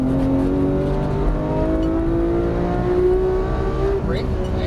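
A Porsche 991 GT3 accelerates on the Auto Club race track, its loud, continuous engine note climbing steadily in pitch as the throttle opens.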